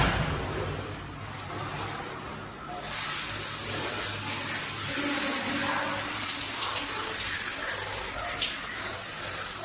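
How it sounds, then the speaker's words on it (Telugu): A shower runs in a bathroom. A quieter watery hiss surges into a loud, dense, steady spray after about three seconds and continues unbroken to the end. "షవర్ చేస్తాను."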